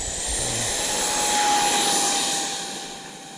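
A Freewing F-14 Tomcat RC jet with twin 64mm ducted fans takes off from grass, a loud steady high-pitched whine and rushing roar that swells and then eases slightly as the aircraft climbs away.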